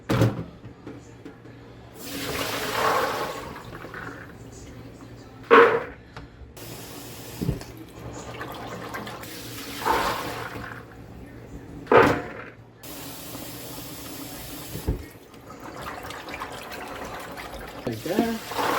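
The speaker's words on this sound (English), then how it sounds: "Now I'm going to agitate these chickpeas, and any chickpeas that floats, I'm taking out of the water." Dried chickpeas being agitated by hand in a bowl of water, soft sloshing and swirling bursts of splashing that come and go over a low room hum, with a voice talking at times.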